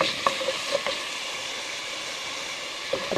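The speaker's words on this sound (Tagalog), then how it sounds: "Ako yung nagluluto ng labong. So ano lang, iigit ako lang itong labong nito. Halo ako ng konting karne yan." Meat sizzles in a little oil with bamboo shoots (labong) in a pan, a steady close frying hiss broken by a few clinks of a stirring utensil, with no voices.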